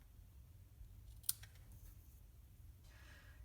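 Scissors make a single quick snip trimming excess ribbon at an angle, a brief crisp cut close by in an otherwise quiet room.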